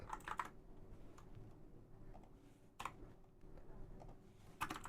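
Typing on a computer keyboard while entering an SQL insert command for a database exercise, with scattered bursts of key clicks over a steady low room hum and no talk.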